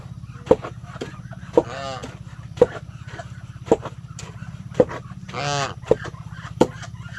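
Geese honk in a free-range farmyard among chickens, turkeys and ducks, sharp calls repeating roughly every second over a steady low hum, with a couple of longer, harsher honking bursts.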